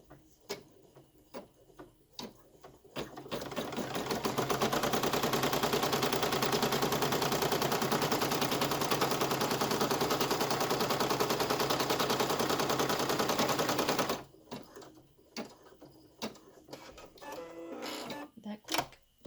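Embroidery machine stitching car coasters, a rapid, loud mechanical chatter sustained for about eleven seconds, framed by scattered clicks and handling noises before and after.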